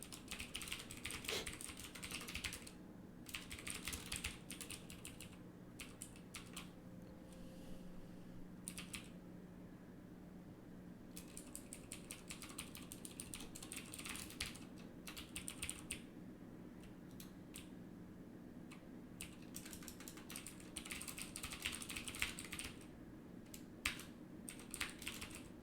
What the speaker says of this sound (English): I'm so used to typing certain things.